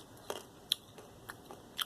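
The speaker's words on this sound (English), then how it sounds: "So I'm not gonna bore you with my chewing all day long." Someone chews a spreadable olive paste made from two ingredients, with soft, faint, close-up wet crunches and clicks at irregular intervals and no talking.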